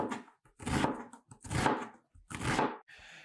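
A knife cross-cuts half an onion on a cutting board, four distinct chopping strokes in an uneven rhythm, close and crisp, with quiet gaps between them.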